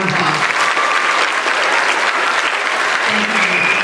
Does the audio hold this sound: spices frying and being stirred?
no